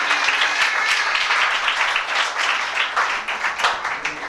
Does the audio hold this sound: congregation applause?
yes